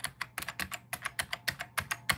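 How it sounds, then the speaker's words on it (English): Rapid typing on a clicky Key Pro mechanical keyboard with ALPS switches, a close, crisp stream of sharp key clicks in an uneven rhythm, alone without speech. "What do you guys think of my Key Pro keyboard? And before anybody asks, yes, clicky keys."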